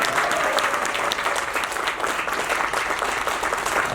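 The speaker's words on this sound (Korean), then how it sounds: "이럴 때 박수 부탁드립니다." A crowd at a tourism association's year-end party in an Ansan hotel bursts into strong, continuous applause, a dense, even wash of clapping that carries on without letup.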